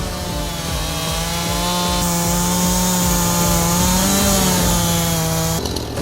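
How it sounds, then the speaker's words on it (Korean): A power saw cuts dried oak into pieces sized for kiln fuel at a winter bathhouse, a loud, continuous whining drone with a steady grinding texture that carries on throughout and alone. "일차로 가공해 바짝 말린 참나무는 가마 안에서 태우기 좋은 크기로 잘라 사용하는데요."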